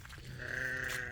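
A sheep bleats in a field on a cattle farm, one drawn-out, wavering call held for about a second at close range, with faint low rumble beneath it.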